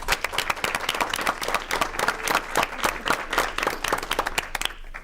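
An audience at a Livonia Public Schools board meeting gives a round of applause, the clapping loud, close and continuous for about five seconds.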